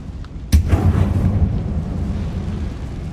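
A Confringo spell goes off in Hogwarts Legacy inside an abandoned mine: a single sudden, loud blast followed by a deep rumbling roar that slowly fades over a few seconds, with no talking.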